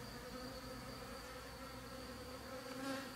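A small honeybee swarm inside a hive box gives off a steady, soft, continuous buzzing hum, quiet and even throughout with no voices.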